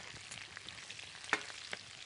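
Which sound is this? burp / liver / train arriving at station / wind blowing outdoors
liver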